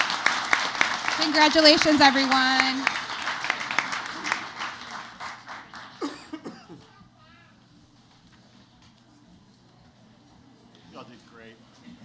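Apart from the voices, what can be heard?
audience applause for winners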